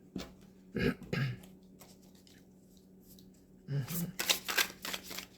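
Tarot card deck being cut and handled, two short bursts of papery shuffling and flicking near the start and again toward the end, close, with quiet pauses between.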